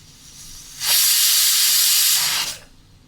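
A loud, steady burst of steam hisses from a pressure cooker cooking lentils for nearly two seconds, starting and stopping abruptly against a quiet background.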